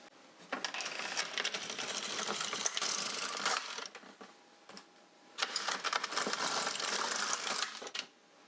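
An LK150 knitting machine carriage sweeps across the bed knitting rows in sport weight yarn, giving two long bursts of dense clattering, ratcheting mechanical noise split by a short quieter pause.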